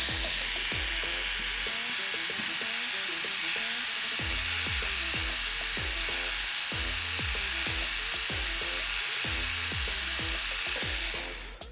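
A tattoo machine buzzes steadily while smoothing the shading on a hair tattoo, a loud, close electric whine with a rhythmic low pulsing that cuts off at the end.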